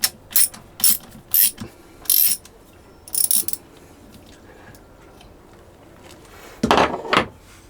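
A hand ratchet works a bolt loose from a water pump bracket on a Kubota diesel engine, giving several short bursts of rapid clicking close by, then a pause and a final louder burst.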